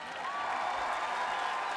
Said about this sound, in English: si vous pouvez faire un grand applaudissement pour maman